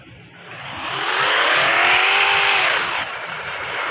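A car engine revving in a racing video game, rising smoothly to a loud sustained high-pitched whine, then easing off slightly, close and alone without talk.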